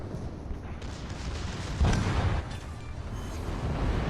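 Enemy battleship blowing up in World of Warships Legends: a dense rumbling naval battle bed with a heavier booming burst near the middle, steady explosive noise throughout.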